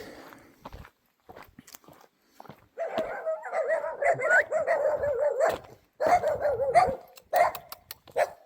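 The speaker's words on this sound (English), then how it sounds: "Dogs here. So they're little dogs, strays." Small dogs that roam freely bark and yip in quick bursts close by, with a short pause and several sharp follow-up barks and no talking.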